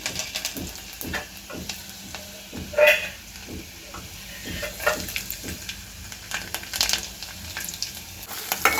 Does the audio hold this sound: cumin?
yes